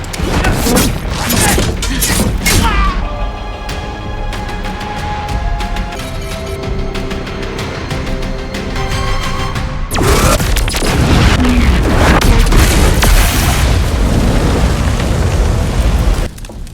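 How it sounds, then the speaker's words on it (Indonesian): A loud C4 explosion bursts and crashes, settles into rumbling and clattering debris, then a second blast erupts with sustained roaring noise. "C4 keburu meledak dan menghanguskan semuanya."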